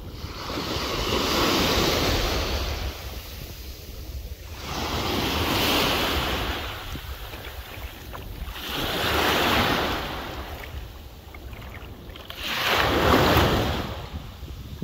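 Ocean waves roll in and wash up on a Dubai beach in slow, regular surges, with steady wind buffeting the microphone throughout.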